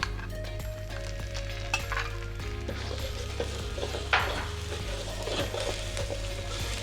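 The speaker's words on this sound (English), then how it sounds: "Now we want to cook this paste." Green curry paste frying in a pan, a steady sizzle with frequent clinks and scrapes of a utensil stirring against the pan, close and continuous with a low hum underneath.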